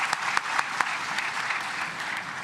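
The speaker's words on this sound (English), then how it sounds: "A round of applause," Audience applause at a panel discussion on borderlands and security in Africa, a steady, moderately loud spread of many hands clapping alone with no voices over it.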